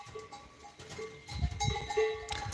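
Farm goats in a village herd give short, wavering bleats over shuffling and a faint bell-like clank, close by and moderately loud, with no talking.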